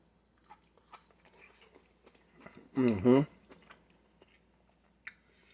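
Close, crunchy chewing of an air-fried asparagus spear, a dense burst of bites lasting under a second, with soft talk and small clicks around it.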